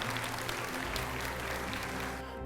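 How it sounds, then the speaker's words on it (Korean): Audience applause at a youth growth camp special lecture by a magician, a steady wash of clapping from a crowd filling the full length and tapering slightly near the end, with no talk over it. "박수 부탁드립니다."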